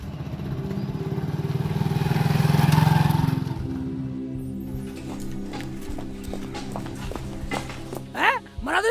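A motorbike is ridden, its engine giving a steady low hum that swells briefly, with voices talking over it toward the end.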